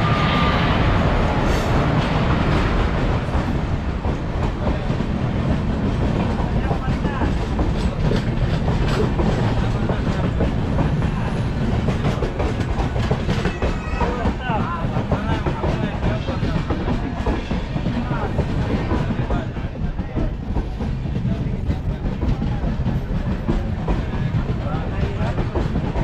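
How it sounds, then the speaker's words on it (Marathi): Diva passenger train pulling into a Konkan railway station, a loud continuous rumble of rolling cars with clickety-clack wheel beats throughout, voices talking over it. "आली आपली फायनली गाडी दिवा पॅसेंजर"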